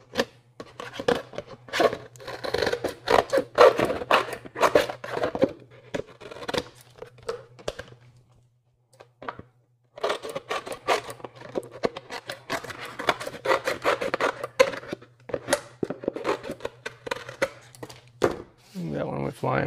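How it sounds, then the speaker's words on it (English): Fiskars scissors snipping through beer box cardboard, a run of quick crisp cuts in bursts, close and clear, pausing briefly midway before more cutting resumes. "what I'm gonna do now is just go right around this edge and cut these ears off"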